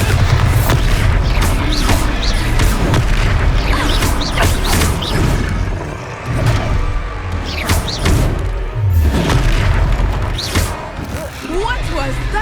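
The Descendo spell in the video game Hogwarts Legacy slams an enemy down with heavy booming thuds and crashes amid a busy battle mix, loud and repeated, with voices shouting spells over it.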